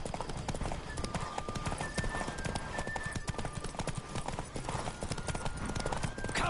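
Rapid, steady hoofbeats of a galloping horse in The Witcher 3: Wild Hunt pound continuously, loud and close, with a brief whinny and a thin whistling tone riding above.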